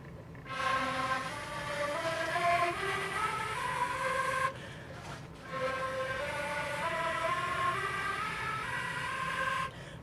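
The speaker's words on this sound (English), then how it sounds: "if you want to combine air and flute sound, then you can do the middle register, higher registers" Flute played in the middle and higher registers with breathy air noise blended into the tone, two sustained gliding phrases separated by a short pause, quiet and close, no voices.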